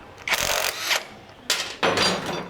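An impact wrench removing a pulley, sounding in two loud rattling bursts of hammering with a short pause between, close and alone.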